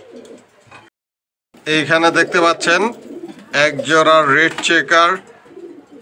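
A pair of red checker racing homer pigeons coos in repeated bursts, close and fairly loud, with someone speaking briefly near the start.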